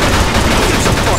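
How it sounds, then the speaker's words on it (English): Dense, continuous gunfire in the WWII-era video game Mafia 2, a rapid sustained burst of close, loud shots filling the whole moment with no voices over it. "Just keep shooting."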